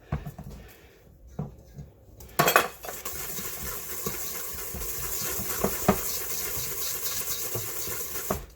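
Hand-mixing oatmeal cookie dough in a bowl, a steady scraping and clinking of a utensil against the bowl that carries on through most of the stretch after a sharper clatter near the start, with no talking.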